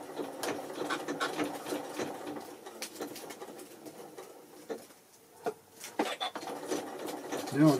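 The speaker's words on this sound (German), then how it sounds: "Da ist jetzt nochmal einmal in die Nähmaschine ran." A Janome Memory Kraft 9400 QCP sewing machine stitching a small fabric purse, giving short bursts of rapid mechanical patter with brief pauses, fairly close and moderately loud, with no talk over it.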